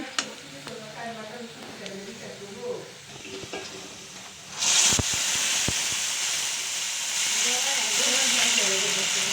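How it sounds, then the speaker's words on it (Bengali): Dried chillies sizzling as they drop into hot oil to temper a sour mango curry, a sudden loud hiss that settles into a steady frying crackle, preceded by quieter kitchen stirring and clinks. "তো টকটা আমি এখন বাগার দিয়ে নিচ্ছি"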